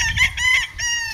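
A Boston Millionaire gamefowl rooster crows loudly and close, a harsh, strained call broken into a couple of rising bursts within about a second.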